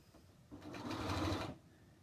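Sewing machine running down a seam on a bag strap, a single brief burst of steady whirring about one second long, close and otherwise quiet.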